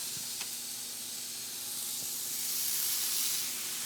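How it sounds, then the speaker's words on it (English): A dry-aged standing rib roast sears bone up in a hot pan, giving a soft, continuous hiss and sizzle at moderate level with a faint low hum and a couple of small ticks, and no talking. "So let's go sear these."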